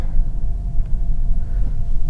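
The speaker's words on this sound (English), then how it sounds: "you get the EV hum like you hear on most hybrid cars, which is pretty loud sometimes" A 2025 Toyota Camry hybrid gives off a steady, close electric hum: a low rumble with a faint sustained tone above it, fairly loud and unbroken, with no voices.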